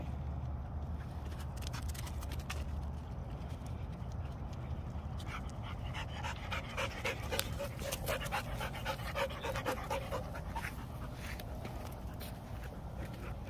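Great Dane dogs pant steadily and rapidly up close, with soft footsteps and faint shuffling mixed into the continuous breathy rhythm.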